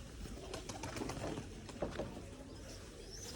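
Soft, low cooing from white pigeons, faint and somewhat distant, with a few muffled calls over quiet background noise.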